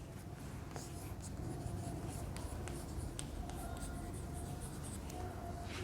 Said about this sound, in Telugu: అవి ఇక్కడ రాస్తున్నాను.